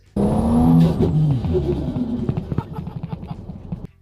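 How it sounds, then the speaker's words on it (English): A Ford XR6 Turbo ute does a burnout, its engine revving loud and close with tyres squealing and skidding, the roar rising then settling into a rough, pulsing drone before cutting off. "you reckon burnouts are hilarious"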